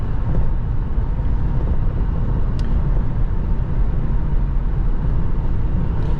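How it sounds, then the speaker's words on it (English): A 2002 Ford Thunderbird's V8 engine hums steadily from inside the cabin while cornering, a constant low drone with road rumble and no voices. "you got plenty of power out of this nice little V8. It's a very smooth running engine."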